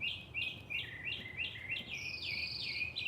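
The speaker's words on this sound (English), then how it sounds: "We've got at least two birds singing." Two birds sing outdoors, repeated bright chirping phrases in quick succession, one overlapping the other toward the end, faint and alone against low background hum.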